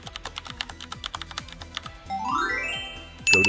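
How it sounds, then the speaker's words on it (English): Quick, even clicking of fingers typing on a computer keyboard, close and fairly quiet, followed by a short rising whoosh and a bright chime at the end. "Type this into Google."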